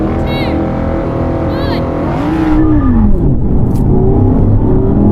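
Audi performance cars, including an R8, RS e-tron GT, RS3, RS6, RSQ8 and RS5, launch and accelerate hard in a drag race. The engines roar loud and close with rising and falling revs under a steady whir.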